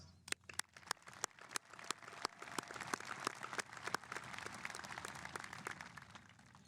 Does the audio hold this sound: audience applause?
yes